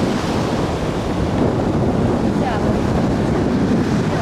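Waves wash onto a wide beach at Mirny in Crimea, a continuous rushing surf mixed with heavy wind buffeting the microphone.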